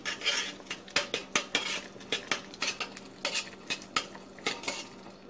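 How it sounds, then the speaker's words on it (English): Cream puff dough, freshly mixed with flour and still clumpy, is beaten in a bowl with a metal utensil, producing a quick run of rhythmic scraping knocks, close and moderately loud with no talking. "And we're going to start mixing. It's going to be clumpy."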